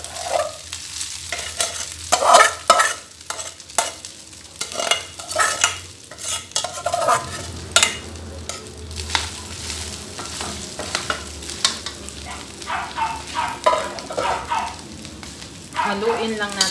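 Three cups of cooled, broken-up cooked rice stirred and fried in a pan for fried rice: repeated scraping and clattering strokes of a spatula over a constant sizzle, loud and close, with brief low speech.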